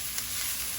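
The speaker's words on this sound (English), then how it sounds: "You hear the sizzle there? I love the sound of a sizzle" Food sizzles in a hot pan in a kitchen, a steady close hiss and crackle that holds evenly for under a second with no voices.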